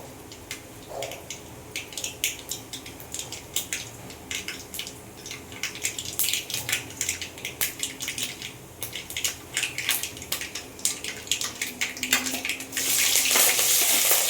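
Oil sizzles and crackles steadily as mustard seeds hit the hot pan, with a dense popping spatter that grows louder and hissier toward the end.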